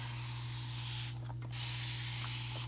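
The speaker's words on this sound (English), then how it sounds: "Now, I'm gonna spray it again." A spray bottle mists water onto a chalk transfer mesh laid over a tablecloth, a single short hissing burst standing out against a steady low electrical hum in a quiet room.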